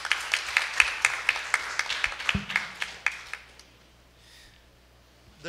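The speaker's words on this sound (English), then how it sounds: "Shall we give them a round of applause?" Wedding guests give a modest round of applause at a church ceremony, a scattered rhythm of claps at moderate distance that fades into quiet after a few seconds.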